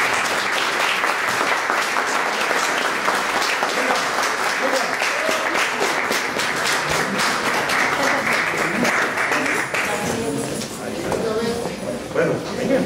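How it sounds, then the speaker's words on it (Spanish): Sustained audience applause fills a salsa recital and discussion event in Bogotá, a dense, loud wash of clapping lasting throughout, with voices talking underneath. "vamos a recibirlos con un fuerte aplauso."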